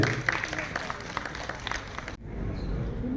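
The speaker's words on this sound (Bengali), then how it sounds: "আর একবার বেদান্তকে আমরা সম্মানিত করি করতালির মাধ্যমে" Audience applause honouring a gold-medal recipient at a music council ceremony, a brief burst of clapping that cuts off abruptly, leaving low room noise.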